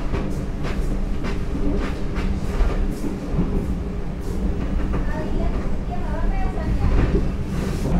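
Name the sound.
Argo Cirebon train running, heard from the dining car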